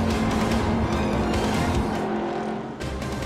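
Sports cars race in the 2014 Continental Tire Sports Car Challenge at Road Atlanta, their engines roaring loud and continuous with tire squeal, and the noise dips briefly before it surges back.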